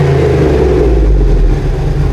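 A HEMI-swapped 1997 Jeep TJ revs hard with its exhaust cutoff open, a loud, close, steady rumbling roar filling the whole stretch with no talk over it.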